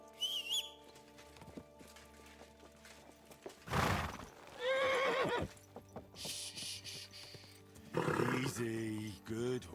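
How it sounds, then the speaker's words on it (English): A horse in the video game Kingdom Come: Deliverance 2 whinnies loudly with a shrill, wavering call, alongside hoof clip-clop and other game sounds, while a voice speaks calmly to it. "Easy, good horse."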